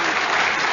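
Studio audience of a radio panel game breaking into applause, a dense burst of clapping lasting under a second, loud and close.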